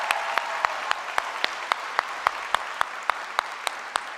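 A convention crowd claps with a sustained wash of applause, overlaid by a few rhythmic, evenly spaced loud claps close by.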